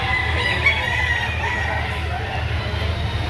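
Several roosters crow and cluck continuously amid the din of a Saturday chicken market in Lipa City, Batangas, a dense, loud barnyard chorus with no clear pauses.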